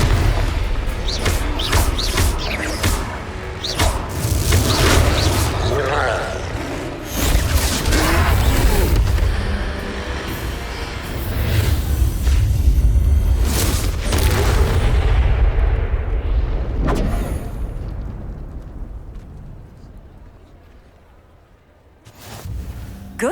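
Confringo blasting spells exploding in Hogwarts Legacy during a troll fight, repeated loud booms and whooshing bursts across most of the stretch before the noise thins out and fades near the end.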